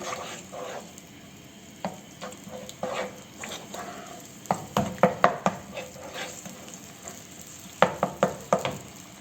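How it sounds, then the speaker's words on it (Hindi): Onions frying in oil in a pan for chicken kofta curry, a steady close sizzle under repeated sharp scrapes and clinks of a spoon stirring, with bursts of stirring clustered toward the end. "प्याज शामिल कर दिए। अब इसको लाइट ब्राउन करना है"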